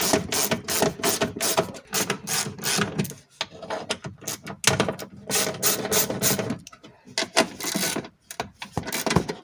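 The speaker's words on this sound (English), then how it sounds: "Now just a matter of undoing some visible bolts." A ratchet clicks steadily while undoing bolts inside an Alfa Romeo 166 front door, rapid close pawl clatter in repeated strokes with brief pauses between bursts.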